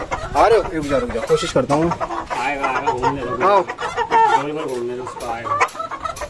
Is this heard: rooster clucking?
yes